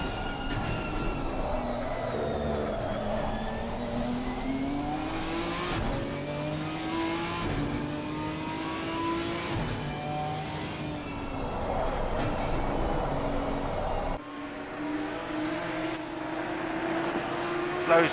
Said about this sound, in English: Get that Audi, closing the gap on that straight.